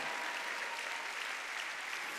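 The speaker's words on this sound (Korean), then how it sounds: "박수 치라니까" A church congregation applauds in a steady, even wash of clapping that carries on without a break, heard at moderate distance with no talk over it.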